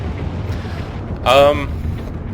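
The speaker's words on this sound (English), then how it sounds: "And a missile just to finish this guy off." A missile blast in the space game Star Citizen: one short, loud, bright burst rises over a low, steady background hum, then quickly fades. Someone speaks faintly.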